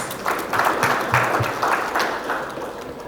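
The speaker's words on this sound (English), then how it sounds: "Please, a round of applause." An audience at an agribusiness breakfast summit applauds, with steady clapping from a crowd that fades slightly toward the end.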